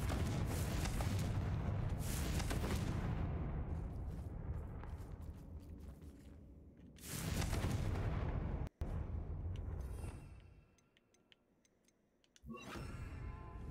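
Confringo fire spell blasts in the game Hogwarts Legacy: loud, dense booming explosions with crackling bursts, a heavy surge around seven seconds, a sharp crack near nine, then a brief lull before another blast.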